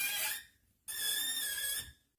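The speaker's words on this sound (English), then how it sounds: "So I've recorded the squeaky dishwasher." A squeaky dishwasher gives two sustained high-pitched squeals, a short one and then a longer one, each with clear whistling overtones and a brief quiet gap between them, close and fairly loud.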